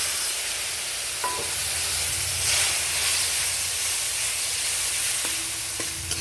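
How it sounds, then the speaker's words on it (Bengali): Okra and potato curry spices sizzling in a pan as spiced water is poured in, a steady broad hiss and bubbling with a few faint clinks, close and fairly loud throughout. "এই মশলার জলটা এখানে দিয়ে দেব"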